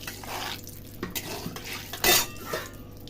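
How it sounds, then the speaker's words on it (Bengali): Fish frying in salted oil in a pan, quiet sizzling with a spatula stirring and scraping against metal, a few brief clinks, faint and close. "আমি একটু নুন দিয়ে মাছটা ভেজে নিই নাহলে কড়াই আটকিয়ে যেতে পারে"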